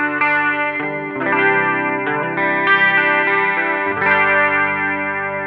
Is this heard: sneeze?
no